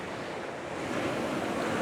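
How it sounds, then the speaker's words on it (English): A calm sea on a coast for landscape photography makes a soft, steady wash of surf with some wind noise against the microphone, continuous and even throughout, with no voices. "The sea is so much calmer than I expected it to be."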